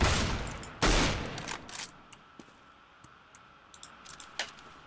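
Bursts of gunfire ring out in Counter-Strike: Global Offensive, two loud shots up front followed by scattered quieter pops and clicks.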